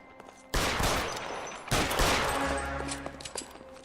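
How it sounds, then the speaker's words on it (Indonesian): Two loud bursts of gunfire in the video game L.A. Noire erupt close by, each fading into a noisy rumble, with a low drone underneath. "Tembak-tembakan ya."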